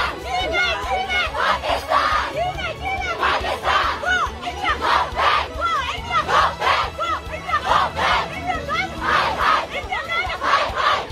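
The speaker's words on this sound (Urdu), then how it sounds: "احتجاجی مظاہرے کیے گئے اور آزادی کے حق میں اور بھارت کے خلاف نعرے بلند کیے گئے" A large protest crowd in Kashmir shouts and chants pro-freedom, anti-India slogans in rhythmic bursts, loud and continuous, with many voices rising and falling together throughout.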